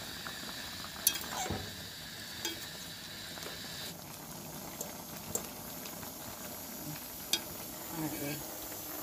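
Pork for Jamaican brown stew cooking over the fire, a quiet steady bubbling and sizzling broken by a few small clinks and utensil taps.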